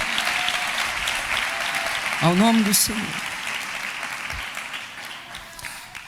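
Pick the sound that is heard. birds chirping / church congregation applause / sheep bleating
church congregation applause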